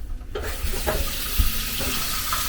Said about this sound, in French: Vous allez mettre en eau et vous ouvrez votre robinet.